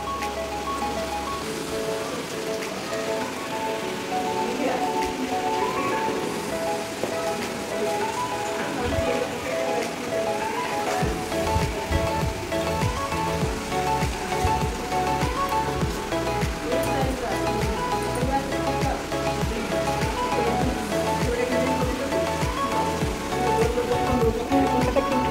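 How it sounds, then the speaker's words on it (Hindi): Rain falls outside a school building during a celebration day, a steady dense patter that lasts throughout, with voices talking over it. "वर्षा आसूची बाहर केते सुंदर वर्षा आसूची।"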